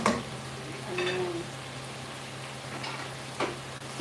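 Chicken frying in hot oil at home gives a steady crackling sizzle with a low hum beneath, a few brief utensil stirs and scrapes on top, close and moderately loud with no talk.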